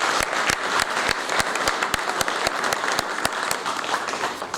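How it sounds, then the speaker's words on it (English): Graduation ceremony crowd in Manchester applauding the staff: a full, sustained roar of clapping with sharp individual claps standing out close by, continuing evenly. "So I would also like to ask you to give a round of applause to the staff again who made this achievement possible."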